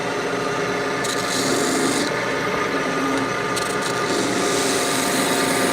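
Wood turning on a lathe with a square roughing tool, a steady close scraping rasp that runs continuously with brief brighter bursts as the cutter bites harder.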